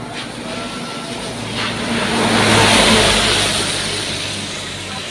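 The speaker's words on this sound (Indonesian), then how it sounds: "Ada truk." A truck engine approaches, swells to a loud, rumbling peak at close range and then fades as it passes along the road, with no talk over it.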